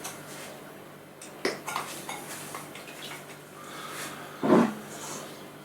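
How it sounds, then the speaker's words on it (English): Flour and baking powder being sieved into a bowl for cheese muffins, heard as soft rustling with a few light metallic taps and clinks of a sieve against the bowl, close by and fairly quiet. "we're going to sieve that into a bowl"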